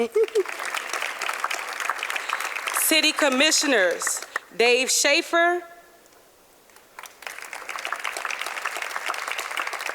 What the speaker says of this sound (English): Well, we'll give a round of applause anyway